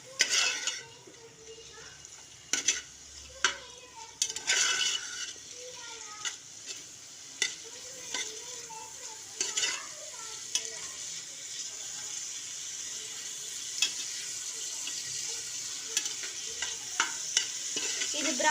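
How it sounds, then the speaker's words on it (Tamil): Green chillies sautéing in a pan for vegetable biryani, a steady sizzle under repeated spatula scrapes and clinks against the metal, close and continuous, with no voices. "அடுத்து பச்சை மிளகா நன்றாக வதக்கவும்"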